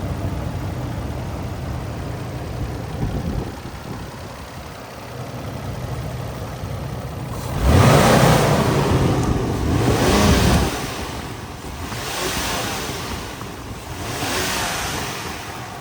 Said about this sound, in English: Again, just engine running like butter.